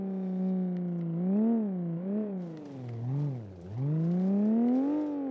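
Loud car engine in the video game BeamNG.drive, a droning, buzzy tone that rises and dips repeatedly as the revs change, steady and close with no talk.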